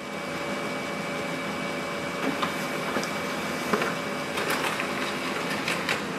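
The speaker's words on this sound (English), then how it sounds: "Instantly it will start the printing." A Brother MFC-L2730DW laser printer runs a print job with a steady mechanical whir and faint hum, punctuated by soft clicks and paper-feed rustles, heard up close in a quiet room.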